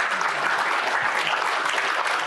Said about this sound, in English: Can we give a big round of applause to all of our sponsors?